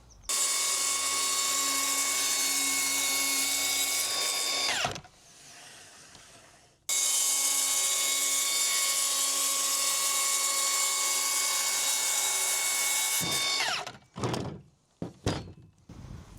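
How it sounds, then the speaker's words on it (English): A power saw cuts a slightly angled, tapered line through a wooden sheathing board for a DIY workshop build. A loud, steady motor whine runs about five seconds, pauses, then runs again for about six seconds before spinning down, followed by a few knocks and thuds. "We have to do a few different cuts on here, starting with this slightly angled tapered one"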